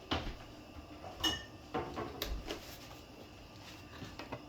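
A cooking pot set down on a stove, a few clanking metal knocks and scrapes spaced across several seconds, close and fairly faint, with no talking.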